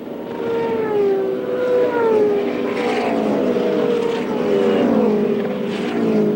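Race cars at speed on the oval at the 1978 Phoenix Jimmy Bryan 150, a loud sustained engine drone with rising and falling pitch sweeps as cars pass, steady throughout with no speech.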